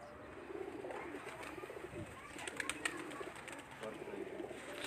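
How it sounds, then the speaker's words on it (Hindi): Soft coos of homing pigeons on a rooftop repeat over steady outdoor background noise, a few brief higher bird calls mixed in, moderately distant. "प्रवासी कबूतरों का शौक करवाएंगे"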